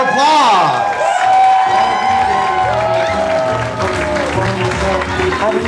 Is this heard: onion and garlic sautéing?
no